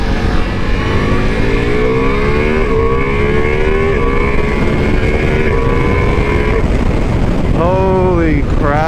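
A Ducati Multistrada V4S Pikes Peak motorcycle accelerating hard, its engine note climbing steadily through the gears with a rising induction howl, close and loud, then a short dip and a fresh sharp climb at the end.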